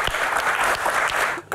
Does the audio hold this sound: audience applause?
yes